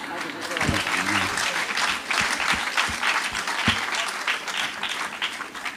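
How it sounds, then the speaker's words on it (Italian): Audience clapping in a hall fills the whole stretch, steady and moderately loud, with a few sharper individual claps near the front and brief talk at the start. "Grazie dell'applauso,"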